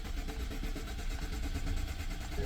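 A previously dead twin-turbo BMW engine with an ignition circuit fault starts at the push of a button and runs, producing a loud, close, continuous mechanical rumble.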